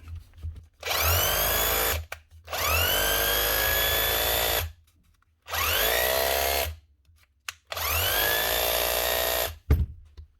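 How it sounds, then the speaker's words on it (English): Repaired old Bosch GBH 36V-LI 36-volt SDS hammer drill, rebuilt with old stock parts, running loud and close in four long bursts with whining motor harmonics that rise and fall, separated by short gaps. "That's one old 36-volt Bosch drill, saved from the dump."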